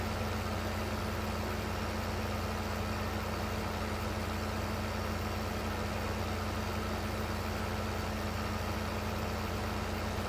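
A steady, droning tractor engine hum in Farming Simulator 15 runs unchanged throughout, low and continuous, with no voices.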